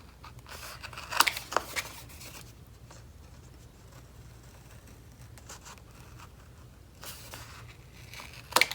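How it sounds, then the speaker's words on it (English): Scissors snipping the corners off paper for a fall mini album, a few short crisp cuts in quick pairs early and late, close and fairly quiet, with soft handling rustle between and no talk. "The two short edges, the long edge at 1/2 inch, and then trim out the corners."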